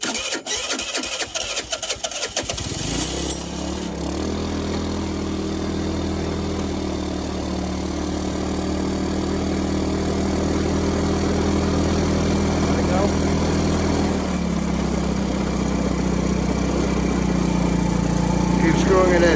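A freshly installed 100cc big bore engine fires up after a brief burst of cranking, then settles into a steady, close buzzing run with slight changes in pitch.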